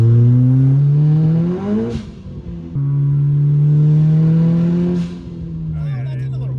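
A 425 hp Nissan Nismo RS engine drones loudly while driving, its pitch rising under acceleration, dipping briefly at a gear change, then climbing again before easing off, with people talking faintly underneath.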